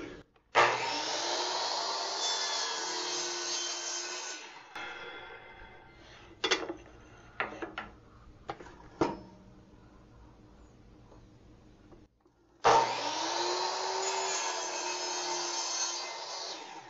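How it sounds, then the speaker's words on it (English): Power saw cutting 3-inch wooden blanks for house numbers in a woodshop, two loud sustained cuts separated by a pause filled with scattered knocks and clatter of wood being handled. "Now I'm just cutting the blanks for the numbers."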